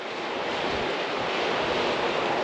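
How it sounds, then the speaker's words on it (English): Caspian Sea waves wash onto the shore at Aktau, heard as a steady, broad roar of surf mixed with wind buffeting the microphone, loud and unbroken throughout. "The sounds of the waves really put me at peace."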